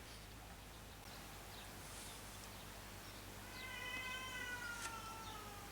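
A cat meows several times indoors, soft at first and then a clearer, drawn-out meow near the end over a steady background hiss.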